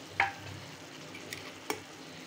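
Spice powders for a home-style chicken gravy fry in a pan with a soft background sizzle, punctuated by three brief metallic clinks of a utensil stirring.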